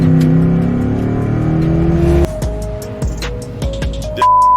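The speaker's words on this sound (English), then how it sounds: "In the Durango, the now tuned Durango RT." A tuned Dodge Durango R/T's engine roars, its pitch rising through a long rev and then dropping into a series of sharp blips and short revs, loud and close.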